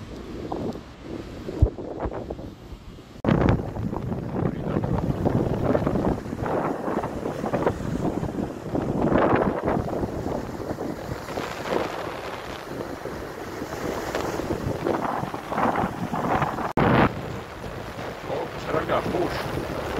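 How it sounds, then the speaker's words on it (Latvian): Strong southeast wind on the coast at Kolka cape, with large waves, roars steadily into the microphone with loud gusty buffeting and surf wash throughout, no voices. "Ragā pūš dienvidu austrumu vējš."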